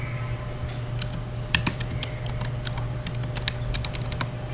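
Key taps on a computer keyboard while a name is typed into a digital art program, a steady run of sharp clicks over a low constant hum, fairly close and with no voices.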